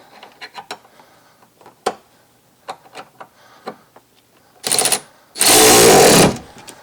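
Power tool tightening the seat bolts on Evo Recaro seats going into a second-generation DSM Eclipse: a short whirring burst followed by a longer, louder sustained run, after scattered clicks and knocks of handling.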